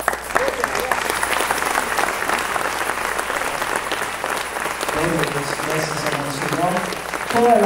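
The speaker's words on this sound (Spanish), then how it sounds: "ese aplauso es para el Señor, más fuerte, fuerte, fuerte ese aplauso" Applause fills a church during an Easter retreat, a sustained crowd clapping throughout while a voice speaks and calls out over it toward the end.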